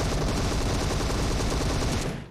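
Dense, loud automatic gunfire from PUBG Mobile, a continuous burst of rapid shots filling the moment and cutting off near the end, with no talk over it.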